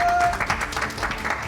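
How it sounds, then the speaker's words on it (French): An audience at an improv theatre show claps steadily, a dense patter of many hands at close range with a voice briefly over the start. "elle mérite aussi leurs applaudissements"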